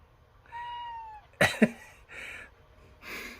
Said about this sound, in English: Look what I found. It's a shop cat.